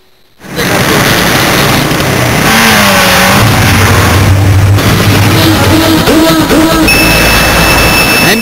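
A motorcycle ridden by a female worker at an MQM rally on a Karachi street revs loud and close, its engine pitch climbing and falling through repeated throttle changes amid constant crowd noise.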